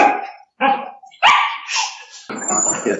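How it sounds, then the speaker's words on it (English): Dogs bark in short, loud, close bursts with brief gaps between them, one yelp rising sharply before a longer run of rough barking. "Oh, these are the dogs."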